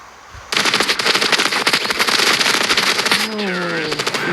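Rapid automatic gunfire from the mobile shooter game Standoff 2, loud, dense bursts of shots that run continuously for several seconds, with a voice briefly talking near the end.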